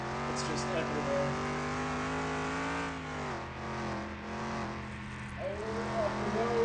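Junkyard Ford F-100 engine held at full throttle in Car Mechanic Simulator 2021, a strained harmonic roar that climbs steadily, drops abruptly at a gear change, then revs up again, with a person talking over it.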